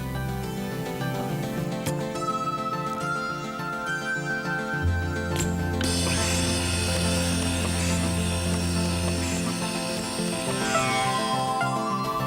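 Industrial automation line with conveyor belts moving metal, wood and plastic cubes, a steady mechanical whir and motor drone with shifting tonal layers and a deeper hum joining midway, continuous and fairly close.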